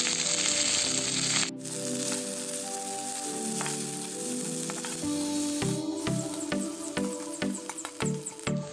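A bay leaf sizzles and crackles in hot oil in a kadai, a bright popping hiss with a sharp burst near the start and a clicking utensil toward the end.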